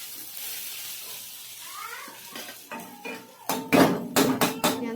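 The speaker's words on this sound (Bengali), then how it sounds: "পেঁয়াজটা একটু লাল লাল হয়ে গেলে আমি ভালো করে নাড়াচাড়া করে নিচ্ছি" Onions turning reddish in a frying pan, a soft sizzle at first and then several loud, close clatters of a spoon scraping and knocking against the pan as they are stirred.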